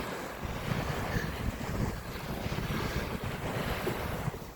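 Ocean surf washes steadily along the shore during a seaside walk, a continuous broadband roar with gentle swells and some wind buffeting on the microphone.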